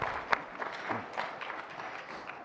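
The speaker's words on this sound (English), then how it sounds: "That's another clapping right there." Audience applause at a leadership luncheon, a soft, distant wash of clapping from a crowd, steady and fairly faint, with one sharper clap standing out early.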